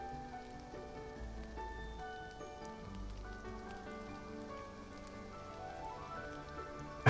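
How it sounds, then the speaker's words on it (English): Rain falls in a steady, soft patter on surfaces, continuous and fairly faint, with a low tonal musical bed running underneath. "we get to see what this place looks like in the rain"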